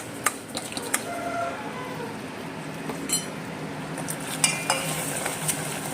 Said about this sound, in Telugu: అరికెలు కూడా వేపుకుంటున్నాము